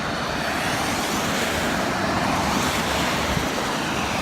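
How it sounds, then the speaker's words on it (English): Road traffic passes nearby as a loud, continuous broadband roar, a dense unbroken wash of vehicle noise with no voices heard. "Sorry if the traffic's too loud."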